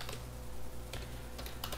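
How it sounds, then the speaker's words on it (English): Rapid typing on a computer keyboard while a group ID is entered for a new Maven project, with bursts of clicking keystrokes close by over a steady low hum, and no voices. "let's type our group ID"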